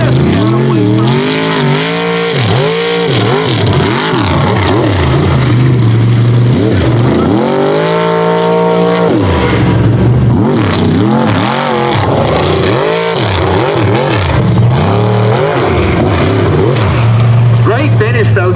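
Unlimited class mega trucks racing at Trucks Gone Wild, engines roaring loud and close, revving up and down with strong sweeping pitch, under an announcer's continuous commentary.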